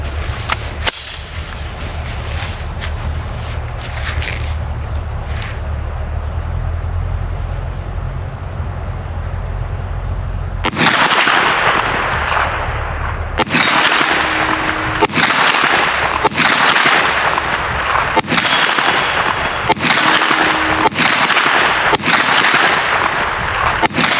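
Kel-Tec Sub2000 Gen 3 carbine firing at an outdoor range, a run of about nine sharp, loud reports at uneven intervals after a stretch of low background rumble.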